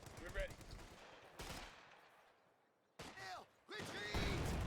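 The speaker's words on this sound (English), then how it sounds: "Another 50 cal out." Bursts of .50 cal machine gun fire in the World War II strategy game Company of Heroes 2, loud repeated rattling volleys separated by brief quieter gaps, with battlefield noise around them.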